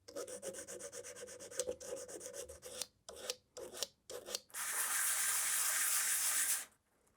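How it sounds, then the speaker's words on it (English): Brass pieces for a Star Trek combadge gently filed by hand, a steady rasping rub in repeated strokes with brief pauses, then a longer continuous scraping burst before it stops. "Gently filing some brass."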